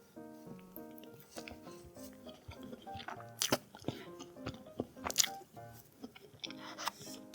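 Close, crisp chewing of crunchy chocolate ganache bread with a chocolate crunch cream layer, irregular bites and crackling crunches at a steady eating pace, no talking.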